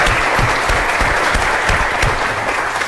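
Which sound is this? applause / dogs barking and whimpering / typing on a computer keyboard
applause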